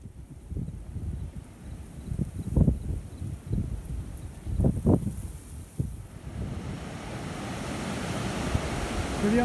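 Ocean waves rolling onto a wild, undeveloped beach at False Cape State Park, Virginia, with several surges building and breaking in the first six seconds, then a steady wash of surf and wind noise continuing alone.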